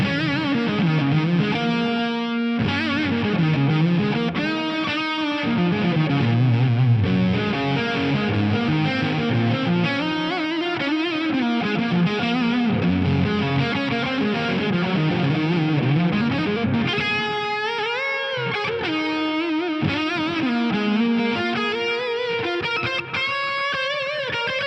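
An electric guitar fitted with Fishman Fluence Classics pickups plays through fuzz and delay, a thick, saturated lead with sustained bends and repeating echo tails, loud and continuous with no voice.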